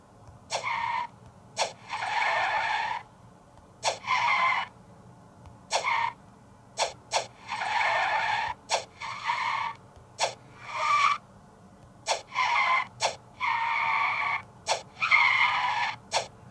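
Tire screeches from a car drifting in the mobile game Sling Drift come in repeated short and longer squeals, about a dozen bursts with brief gaps, over a low steady engine drone.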